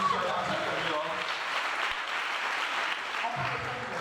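A church youth congregation at a seminar applauds, a dense, steady clapping from many hands that stays loud for several seconds, with voices mixed in.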